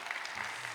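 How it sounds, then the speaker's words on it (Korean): A church congregation applauds during a Sunday afternoon service, a brief and steady burst of many hands clapping together. "박수 한번 주세요."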